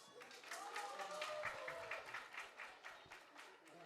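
Faint, steady audience applause at a Vegan Day community gathering, rippling with claps for the volunteers for about four seconds, with a few high whistle-like tones over the clapping.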